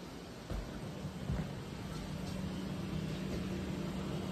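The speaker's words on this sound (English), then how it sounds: "Big thunderstorms here, heavy rain, about as dark sky as I've ever seen." Heavy rain hisses steadily under a very dark sky in a big thunderstorm, with dull low thumps of thunder rumbling through the downpour and no voices.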